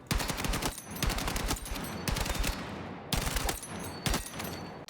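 Sustained full-auto weapon fire in the video game Battlefield 6, loud rapid bursts of shots with a brief pause before the spray resumes, no talking.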